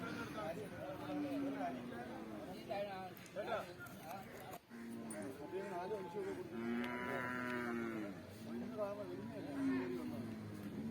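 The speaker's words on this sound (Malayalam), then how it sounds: "ഇവിടെ ഒരു കാസർഗോഡ് കുള്ളൻ്റെ ഒരു പശു ഇവിടെ നിൽപ്പുണ്ട്" A Kasaragod dwarf cow lowing at a livestock market, several drawn-out moos in a row, close and clear, with people talking in the background.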